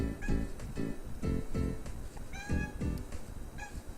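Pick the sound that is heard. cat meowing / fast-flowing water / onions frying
cat meowing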